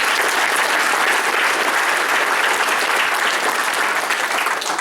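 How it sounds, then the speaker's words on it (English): Applause from a crowd of parents and players at a football orientation, a dense, steady wash of many hands clapping that holds loud and even throughout. "give yourselves a round of applause."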